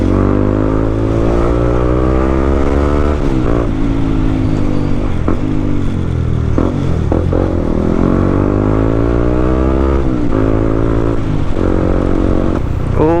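A Honda CB150X motorcycle rides through Saturday traffic near Manila, its engine loud and close, revving up and down through repeated gear changes and rising pitch sweeps, with no talking.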